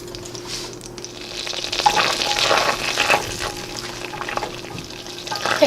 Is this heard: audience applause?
no